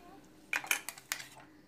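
A metal spoon clinks against a dish several times in quick succession while a spoonful of milk is added to cashews for a paste, the bright taps close and fairly crisp over a quiet room.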